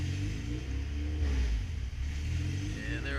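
A Ford F2B with air trapped in its cooling system runs at idle, the engine note rising and falling in a steady surging rumble, close and continuous throughout.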